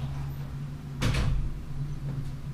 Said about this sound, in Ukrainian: Ще хлопу дверима.